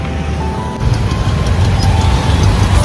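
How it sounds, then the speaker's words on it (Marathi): Road traffic rumbles on a highway between Nagar and Pune, a continuous near engine drone and tyre noise that swells slightly louder partway through, with no talking. "पुढे मध्ये जरा जास्तच ट्रॅफिक असतंय"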